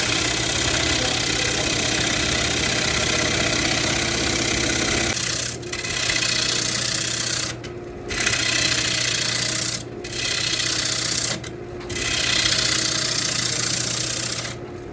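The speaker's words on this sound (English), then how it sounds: "I need to go ahead and true in the whole blank so that it's balanced on the lathe." Rotten sweetgum bowl blank being trued on a wood lathe, a steady motor hum with rasping, scraping gouge cuts that pause briefly three times and resume, close and continuous.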